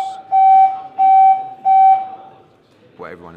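A fire alarm system test sounds three loud, steady electronic tones, each about a third of a second long with short gaps between them, and then a voice begins speaking as the tones stop.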